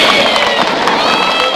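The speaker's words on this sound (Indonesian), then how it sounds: "Tepuk tangan untuk beliau." A dense crowd at an outdoor political rally in Jember cheers and claps loudly in a continuous wash of noise.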